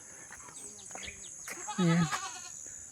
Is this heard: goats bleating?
yes